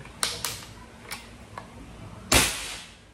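Bolt-action Concord airgun cocked twice and then fired: a few small mechanical clicks and clacks lead up to one louder sharp shot near the end, all close by in quiet surroundings.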